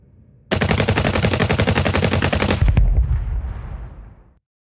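A minigun sound effect built from library gunshot samples fires a dense, rapid, unbroken burst for about two seconds, then a heavy low boom and a decaying reverberant tail, loud and close with no voices.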